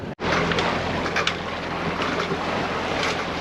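A sailboat motoring downwind under both engine and sails through the Strait of Messina, heard as a steady low engine drone beneath constant rushing wind and water noise, loud and unbroken after a brief dropout at the start.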